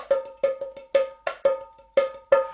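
Small Sound Shapes frame drum struck in a steady pattern, sharp bright taps with ringing tonal decay, about eight hits, some in quick pairs, close and clear with no talking.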